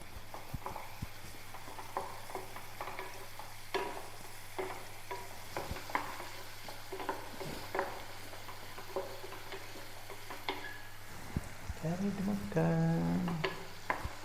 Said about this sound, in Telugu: ఇప్పుడు ఆనియన్స్ కూడా వేసేస్తున్నాను ఇవి కూడా వేగాలి కదా అందుకని వేసేస్తున్నాను